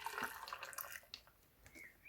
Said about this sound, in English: I'll add a bit of water just to go with it.